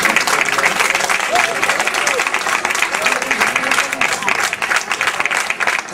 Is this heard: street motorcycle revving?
no